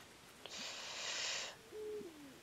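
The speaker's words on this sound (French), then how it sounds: "J'entends le houhou. Est-ce un houhou de pigeon ou un houhou de hibou? J'ai l'impression que c'est un houhou de hibou." An owl hoots softly in the Endling video game, a short breathy call followed by a lower, wavering hoot, faint and alone against a quiet background.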